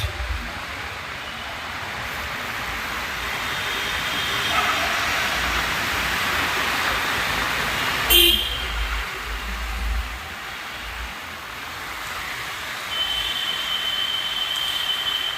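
A metro train rumbles past overhead, close by, with steady broadband noise, a sharp metallic squeal or clank partway through, and street traffic around it beneath the metro station near Farmgate.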